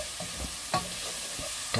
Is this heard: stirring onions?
yes